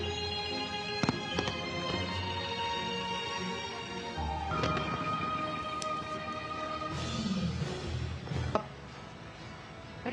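New Year fireworks bursting through a celebration, a continuous dense crackle and pop with scattered sharper bangs, steady and fairly distant under crowd ambience.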